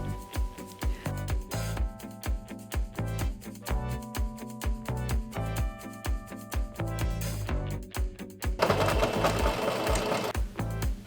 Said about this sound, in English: Once the back is sewn, I simply have to sew the sides of the dress.